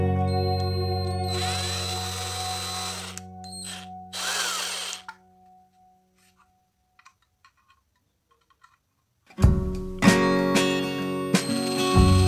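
A power drill drives screws into a PVC ceiling while fitting a downlight, whirring in two short bursts, then falling quiet before a louder, longer run near the end.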